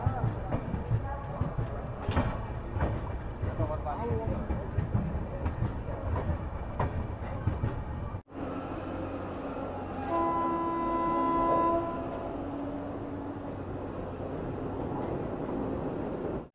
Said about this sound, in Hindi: सिर्फ 2 मिनट रुकने के बाद अपनी ट्रेन का डिपार्चर हो चुका है गाजियाबाद रेलवे स्टेशन से